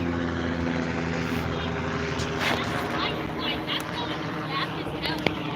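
A life flight medical helicopter passes overhead, its broad rotor and engine roar steady and fairly loud throughout. Outdoor wind noise mixes with it and a voice is heard briefly.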